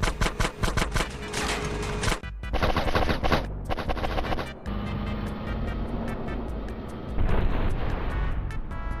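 Loud, sustained automatic gunfire in GTA San Andreas: dense rapid bursts broken by brief pauses, with engine rumble underneath and no voices.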